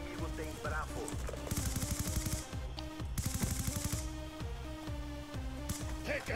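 Rapid automatic gunfire and single shots from Call of Duty Black Ops 2 in an online Domination match on PS3, continuous bursts layered over game music and effects, with a player's voice talking over the action.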